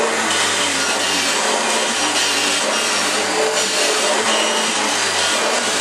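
A vacuum cleaner runs steadily at close range, giving a loud continuous broadband roar with a low motor hum and no pauses.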